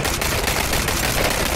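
Rapid gunfire in PUBG during an online match, a dense, loud, continuous burst of automatic shots with no pauses.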